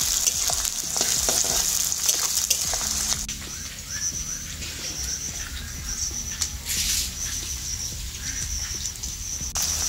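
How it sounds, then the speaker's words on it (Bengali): Chopped onion fries in hot oil with whole garam masala, a steady crackling sizzle close by, broken by scraping and stirring clatter from a utensil in the pan. "আর পেঁয়াজটাকে একটু ভালো করে ভাজবো।"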